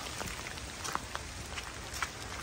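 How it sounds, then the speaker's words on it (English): Rain falls on and off through local woods in autumn, with light scattered drops pattering on leaves and surfaces over a steady wet hiss, soft and close. "Weather's ridiculous, it's raining on and off."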